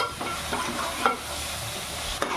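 Spices for an egg paneer masala cook in oil while being stirred, a soft low sizzle with occasional spatula scrapes and a faint clink, quiet and close with no talk.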